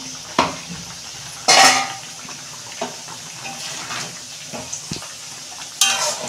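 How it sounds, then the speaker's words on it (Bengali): A lid comes off a pot of bata fish curry cooked with mixed vegetables, giving a few sharp metallic clinks and one louder clatter of metal cookware, spaced out over a low kitchen background. "দেখুন বন্ধুরা, ঢাকনা খুলছি।"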